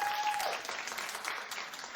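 A studio audience at a television talk show claps together in a brief, dense burst of applause, steady and fairly loud throughout, with no talk over it.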